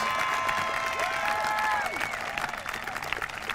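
An audience applauds and cheers for Team 8A students at a school promotion ceremony, steady crowd clapping throughout with some whistles or shouts above it.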